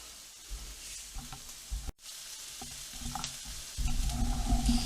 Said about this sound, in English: I have that in the pan with a little bit of oil. I want to cook that. So 1 pound of ground beef